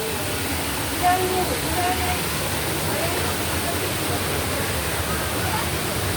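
Düden Waterfall in Turkey, water pouring steadily with a broad, hissing roar that holds even and unbroken throughout.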